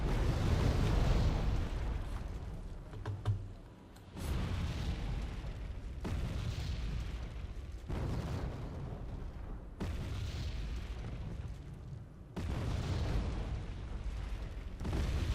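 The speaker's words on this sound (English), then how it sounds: "This bit of an artillery roll back and forth." Artillery fire in the strategy game Wargame Red Dragon, a string of heavy booming blasts rolling one into the next, loud and continuous with a few brief dips between, no voices.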